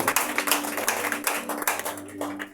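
Congregation at a church service clapping to acclaim the king, a steady rhythmic group clapping at close range, roughly four claps per second, with a sustained tone underneath.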